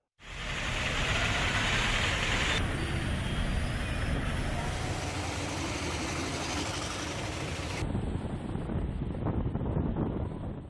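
Strong gusty wind at Tirumala roars across the microphone in a loud, unbroken rumbling buffet that shifts slightly in character partway through, with no clear voices.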